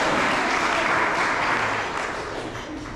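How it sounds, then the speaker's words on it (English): Dense, steady applause from an audience at an evening author event in Miami celebrating Kevin Kwan's new book, holding full for about two seconds before easing off slightly toward the end. "That definitely deserves applause."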